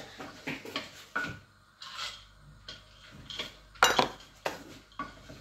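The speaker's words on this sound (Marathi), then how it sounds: "काजू आणि मनुका टाकतो." Cashews and raisins tumble into a cooking pot, giving a string of dry rattling, scraping clinks against metal, loudest in one sharp burst near the middle.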